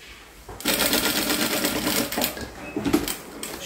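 A sewing machine runs steadily, stitching binding onto a fabric placemat, with a continuous close mechanical whir and rapid needle chatter that starts after a brief pause and eases slightly near the end.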